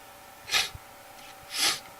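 Two quick sneezes about a second apart, close and fairly loud, each a sharp breathy burst with no talking around them.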